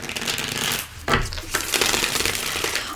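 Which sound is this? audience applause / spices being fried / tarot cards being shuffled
tarot cards being shuffled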